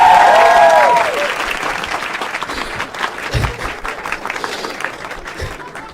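An audience applauds a contestant with dense, steady clapping that opens with a loud cheer, then settles into a sustained ovation with a few thumps underneath.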